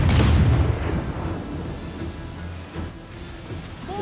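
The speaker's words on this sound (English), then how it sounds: "Oh, mortars too." Mortar fire from ships in the Assassin's Creed IV: Black Flag video game, a heavy booming blast that opens the stretch and rolls off into a rumbling, thunder-like tail with rain-like noise behind it.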